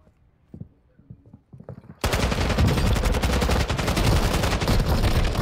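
Dense, loud automatic gunfire from a video game bursts in after a quiet stretch of scattered faint noises and keeps going without pause until the clip ends.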